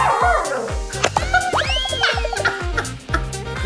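A dog barks repeatedly at close range in short, loud yaps, with a few whiny, whimpering tones between the barks.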